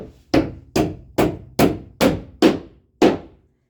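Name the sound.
hammering drywall nails, hitting a screw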